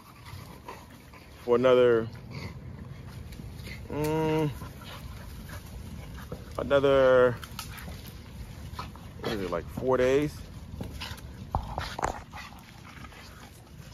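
A five-month-old dog named Glorilla gives several short whimpering, panting vocal bursts spaced across the scene, close by, while a person talks intermittently.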